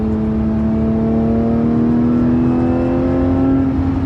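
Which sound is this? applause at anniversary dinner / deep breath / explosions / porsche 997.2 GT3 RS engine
porsche 997.2 GT3 RS engine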